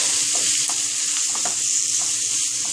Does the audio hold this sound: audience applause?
no